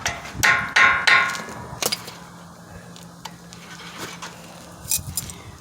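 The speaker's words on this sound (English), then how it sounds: "Use it to pound the pin out sometimes." Hammer blows driving a brake caliper pin out on the front brakes of a 2018 Toyota 4Runner, a few sharp metallic strikes close by, then fainter taps and clinks with no talking.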